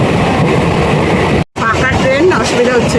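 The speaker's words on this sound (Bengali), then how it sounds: "আমরা আবার ট্রেনে উঠে গেছি" A local passenger train heard from inside a carriage, with steady loud rolling rumble and rattle, a brief dropout midway, and people talking over the noise.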